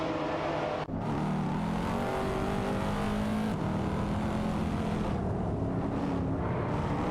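Race cars in a racing video game, among them a McLaren 540C and a Wiesmann GT MF5, keep up a continuous engine roar with shifting revs and a brief dip near the start.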